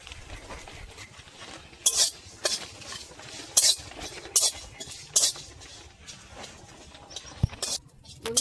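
Spices and four dried red chillies are dry-roasted in an empty pan, with a metal spatula scraping and clinking against the pan in sharp, irregular strikes over quiet background rustle.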